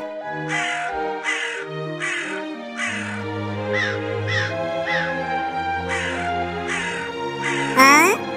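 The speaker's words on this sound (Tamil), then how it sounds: "என்னடா இது, காக்காலாம் என்ன மிரட்டுது?" Harsh crow caws repeat in a steady series of loud, close calls over a low sustained hum, ending in a sharper squawk.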